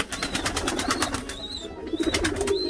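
Pigeon regurgitating food to its chick in a nest, with steady rhythmic cooing and bird calls close by, plus fluttering pulses and a brief whistle-like call recurring.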